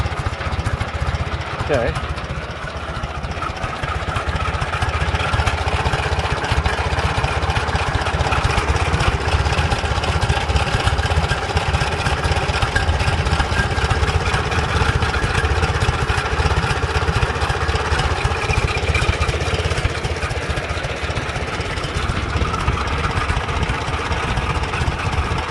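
A small engine fitted with a Chinese carburetor runs at a fast idle, holding a steady, loud drone that rises and falls slightly with governor surge, while a voice briefly speaks over it.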